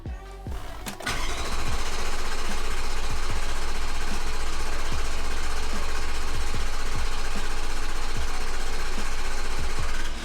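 A diesel engine cranks briefly after a fuel filter change and priming, then catches and settles into a loud, steady idle that runs continuously to the end, with no talking.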